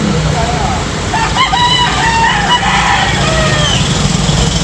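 A young rooster crows at the outdoor Carbon market in Cebu, a strained, wavering call repeated over a couple of seconds amid constant crowd and engine noise, fairly close and loud.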